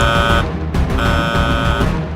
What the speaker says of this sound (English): At the lookout, George's accident had been seen and the alarm raised